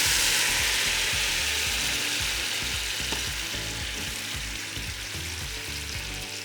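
Browned butter with sage sizzles and spits steadily in a pan as lemon juice goes in, a dense frying hiss with scattered pops and faint stirring clicks throughout.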